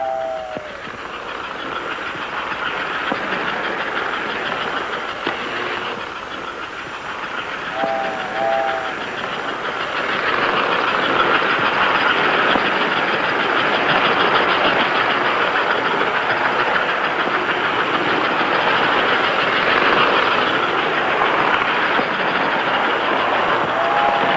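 An American Flyer toy train runs along two-rail track, a continuous rolling rumble that swells louder partway through, with several short whistle toots sounding at intervals.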